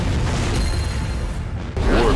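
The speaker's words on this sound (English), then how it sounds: "Cannon is ringing, making a killing." Heavy cannon fire in the World War II mobile game Warpath, a loud continuous booming roar with a sharp burst near the end, alone without talk.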